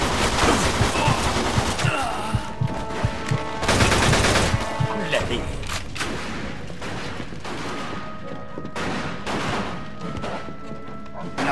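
Gunfire in the video game Mafia 2: dense, loud bursts of shots and rapid automatic fire with sharp cracks, some pauses between volleys and shouting voices mixed in.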